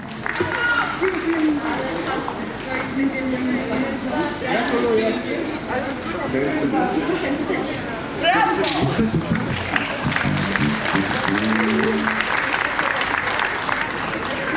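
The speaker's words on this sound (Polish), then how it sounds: "gorące brawa to jest nagroda publiczności" An audience applauds warmly at a municipal anniversary festival, a dense sustained clapping that fills the whole stretch at close range, with a loud announcer's voice speaking over it.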